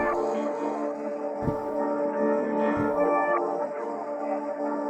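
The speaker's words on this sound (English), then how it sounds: "Then we are simply reversing the sample, and we're also going to pitch it down another 3 cents" A reversed, pitched-down melody sample for a drill beat swells in sustained, smeared tones that build backward, with two deep low thuds breaking in, steady and moderately loud throughout.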